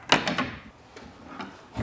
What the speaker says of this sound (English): Let's look in my drawer of stuff.